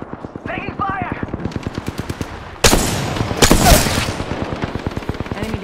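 Rapid automatic gunfire from a squad-based shooter video game rattles in fast bursts, with a louder, heavier volley partway through, while voice chatter sits faintly underneath.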